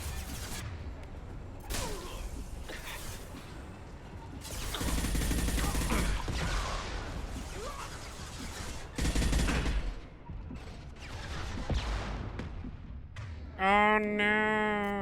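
Gunfire in the Mass Effect 2 video game, with bursts of shots and crashing impacts coming in irregular clusters over a busy combat soundscape, ending in a brief tonal electronic effect.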